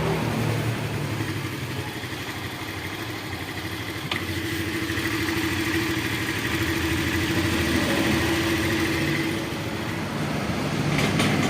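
A Honda Vario scooter with a misfiring, stalling fault idles steadily after starting, its motor running as a continuous close, even drone with no talk over it.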